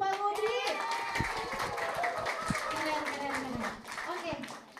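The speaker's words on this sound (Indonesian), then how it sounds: "Sekali lagi tepuk tangan dong untuk Pak Mudi." An audience at the Gebyar 1000 Xpander live event claps for Pak Mudi with scattered, moderate clapping under overlapping voices and a child's chatter, the sound thinning out toward the end.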